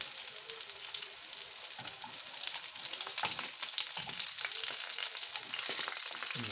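Sausage-shaped meat patties fry in a pan, a continuous close crackling sizzle with sharp spitting pops throughout, no one talking.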